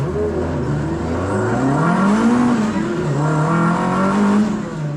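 A classic Ford car's engine revs and rises in pitch as it pulls away from a red light, loud and close from inside the car, with steady road and engine noise underneath.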